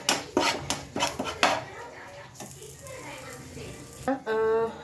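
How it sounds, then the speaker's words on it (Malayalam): A metal pan is set down and clattered on a home stove before roasting mustard seeds, with several sharp clanks early on, quieter handling afterward and a voice talking near the end. "നമുക്ക് കടലയ്ക്ക് കടുക് വറുക്കാനായിട്ട് ഒരു പാൻ അടുപ്പിലോട്ട് വെച്ചിട്ട്"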